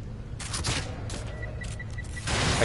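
Explosive rounds fired in The Evil Within, a burst of loud, sharp shots and booms in quick succession, with a brief gap and then a heavier blast closing out the run.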